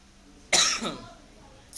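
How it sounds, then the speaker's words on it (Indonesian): A single close, sharp cough followed by a fainter rasp, then a brief second small cough after a short pause, in an otherwise quiet room. "saya udah mulai batuk nih"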